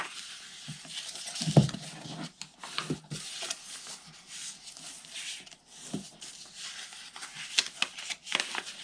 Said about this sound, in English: now we're going to fold and burnish.